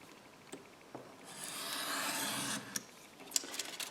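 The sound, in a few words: craft knife cutting paper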